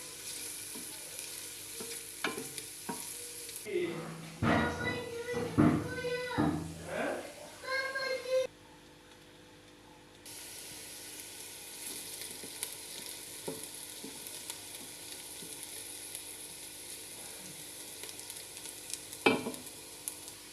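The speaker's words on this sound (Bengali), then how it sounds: "এটা অনেক আলতোভাবে নাড়তে হবে, যেহেতু রাইস কুকার কারেন্টের বিষয় আছে।" Noodles stirred gently in an electric rice cooker, soft scraping and light sizzling under a steady hum, with a stretch of close voices talking partway through and sparse stirring clicks afterward.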